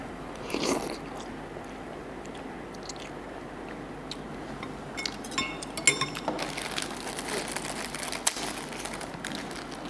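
Eating Indomie instant noodles, with soft close chewing, slurping and small clinks of a utensil against a bowl carrying on steadily without speech.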